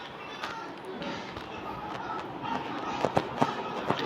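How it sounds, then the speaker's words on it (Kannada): Firecrackers bursting during a Vishu celebration in Kerala, sharp pops and cracks rising through a busy outdoor din, with a voice talking underneath. "Still they cracking the ಪಟಾಕಾಸ್."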